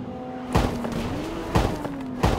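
A Lamborghini in the Mayanagari open-world driving game holds a low, steady engine drone whose pitch shifts slightly, punctuated by three heavy thuds at regular intervals.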